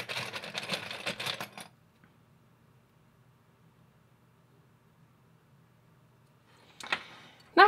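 A sewing machine stitches a seam on a short-sleeved sweater in two bursts of fast, even mechanical clatter, one at the start and one near the end, separated by a long quiet pause filled with faint background hum.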